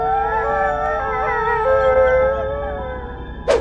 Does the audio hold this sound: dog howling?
yes